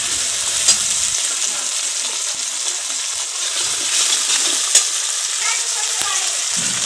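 Masala for a boal fish curry sizzles steadily in a pan while being stirred, a continuous bright frying hiss with a few sharper clinks of the spoon against the pan.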